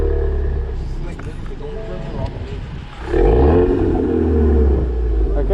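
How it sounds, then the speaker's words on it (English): Subaru BRZ engine revving during donuts, a deep rumble that climbs and swells loudly in the second half, with people talking over it. "Just rev it, no?"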